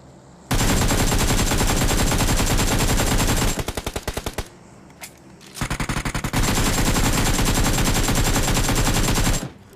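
Automatic gunfire in the mobile battle royale game BGMI, long loud rapid bursts of machine-gun fire with short gaps and a few single shots, close and dominant with no talking.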